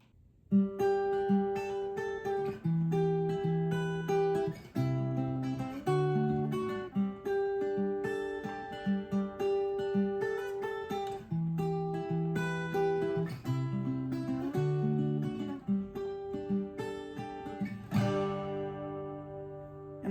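An acoustic-style guitar plays a riff at regular speed, a steady rhythmic pattern of plucked bass notes and strummed chords repeating cleanly with no voice.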